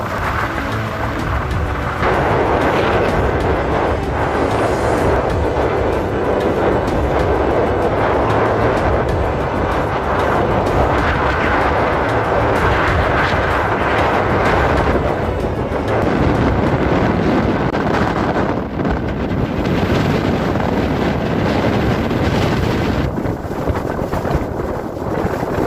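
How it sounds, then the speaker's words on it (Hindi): A desert sandstorm in Rajasthan blows as a constant, loud, buffeting roar of wind, gusting and rumbling against the microphone for the whole stretch with no break and no speech. "इस आंधी के आप अंदाजा नहीं लगा सकते कितनी जबरदस्त स्पीड"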